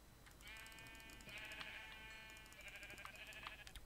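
A sheep in the game Minecraft bleats in a few drawn-out wavering calls, close and fairly loud, with faint game clicks and ambience underneath and no talk.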